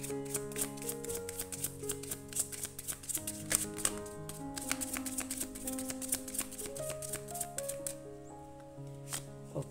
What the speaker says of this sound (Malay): saya tarik 2 kad di sini teman-teman ya